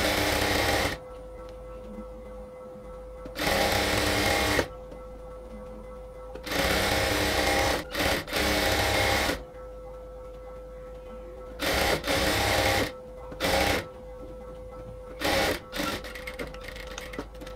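An electric sewing machine stitches a 1.5-inch folded border on a nightie in repeated bursts of fast, loud whirring, each run lasting one to two seconds, separated by quieter pauses with a faint hum.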